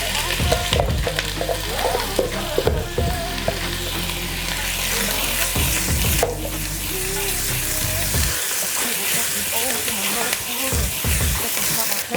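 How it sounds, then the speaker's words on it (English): Half a cup of diced onion sautéing in melted butter for broccoli cheddar soup, a bright steady sizzle with occasional spoon stirring and scraping, close and loud, no speech. "Let that saute for about 2 minutes."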